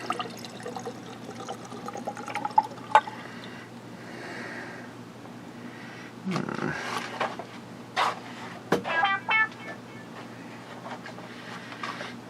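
A bourbon-coloured spirit is poured from a flask, giving a few brief, soft splashing gurgles in a quiet room amid light handling noises.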